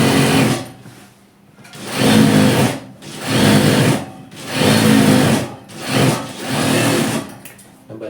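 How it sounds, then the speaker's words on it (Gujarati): A sewing machine stitches the zipper of a capri in five loud, close bursts of rapid stitching, each about a second long, with short quiet pauses between them and no talk. "પછી એવી રીતે જ આપણે ચાંપની સિલાઈ મારવી."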